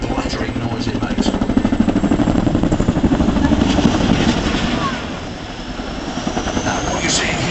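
A Chinook helicopter at an air show gives off its loud, close rotor blattering, a rapid rhythmic chopping thump over a heavy engine drone that eases slightly before building again, while a commentator talks over it.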